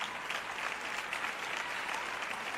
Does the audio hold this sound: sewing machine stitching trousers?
no